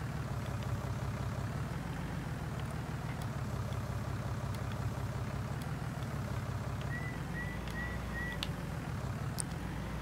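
A Hürlimann tractor engine idles in Farming Simulator 19 with a steady low rumble that runs unbroken throughout. Faint small clicks and a brief high chirp sit on top of it.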